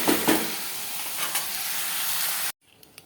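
Half-fried rice stir-fried in a pan at home, giving a steady close sizzle with scraping stirs, then cutting off abruptly into near silence.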